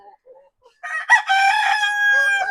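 A breeding rooster crows once, close and loud, a long ringing cock-a-doodle-doo after a few faint soft clucks.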